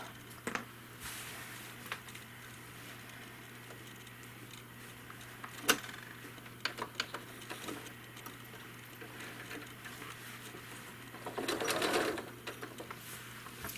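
A home sewing machine hums steadily as it machine-quilts a quilt, with light ticks and small bursts of stitching and a brief louder run near the end.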